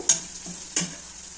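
Steady sizzling of onion and garlic frying in a pan, with two short scraping stirs about half a second apart.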